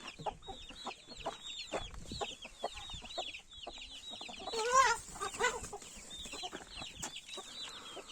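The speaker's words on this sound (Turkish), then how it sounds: "sakin bir tavuktu bu da çok asabileşti." An agitated hen clucks and squawks repeatedly in short, excited bursts, close and fairly loud, with a sharper flurry of alarmed calls midway through.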